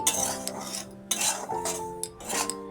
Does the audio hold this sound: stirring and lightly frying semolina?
yes